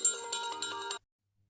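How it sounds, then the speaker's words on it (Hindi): Mobile phone ringtone, a short melodic electronic tune of a few repeated pulsing notes lasting about a second, close and clear, then cut off into silence. "सॉरी, फोन आ गया था।"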